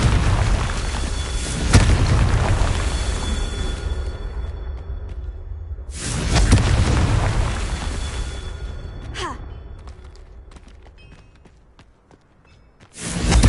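A Confringo blasting spell detonates in a video game as a series of deep booming blasts, two strong ones a few seconds apart with a rumbling tail, then a final burst at the end, amid quiet background ambience.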